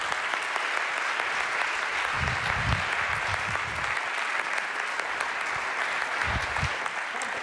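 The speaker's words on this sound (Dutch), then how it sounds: "Dus een hartelijk applaus voor Kees Verhoeven." Warm applause from a seated audience greeting speaker Kees Verhoeven before a privacy lecture, continuous dense clapping from many hands, loud and even throughout with a faint murmur underneath.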